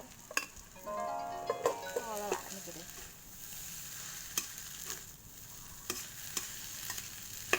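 Eggs and rice stir-fried together in a pan for fried rice, a steady sizzle with scraping stirs and clinks, while a voice speaks briefly near the start.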